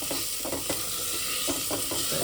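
Meat curry being stirred in a pan, a continuous loud sizzle broken by several rhythmic scraping strokes of a spoon against the metal, with no talking.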